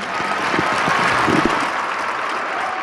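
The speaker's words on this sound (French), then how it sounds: "vous l'entendez, de nombreux applaudissements pendant plusieurs minutes" A large crowd at Saint Peter's Basilica applauds Pope Francis after his Easter blessing, a dense, sustained wash of clapping heard from a distance that swells slightly and carries on without a break.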